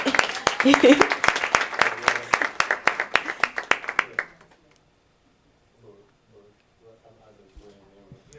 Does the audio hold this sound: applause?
yes